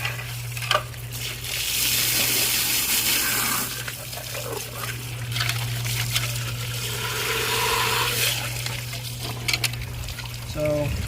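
Water drains and trickles from an aquarium filter sock on a reef tank, a steady close splashing wash with a low hum beneath it.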